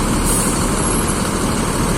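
Haryanto intercity bus idling at the Cicaheum terminal, a loud steady diesel engine rumble with broadband hiss, close and continuous for the whole moment without any speech.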